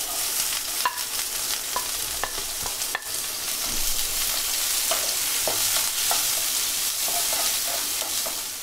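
Chopped onion fries in plenty of hot oil in a kadai, a steady loud sizzle with scattered clinks and scrapes of stirring; no one speaks.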